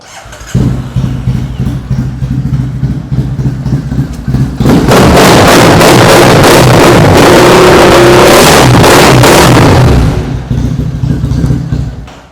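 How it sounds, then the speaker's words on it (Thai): A 2015 Triumph TT900 motorcycle engine idles steadily, then revs hard and loud for several seconds before settling back to idle, close up. "ลองฟังเสียงเครื่องยนต์กันดูครับ"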